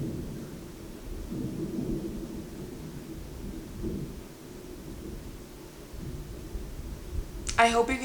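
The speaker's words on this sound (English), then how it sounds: "I hope you can hear that thunder out there" Low rumbling thunder rolls outside during a rainstorm, a steady distant growl with swells, and a brief voice at the very end.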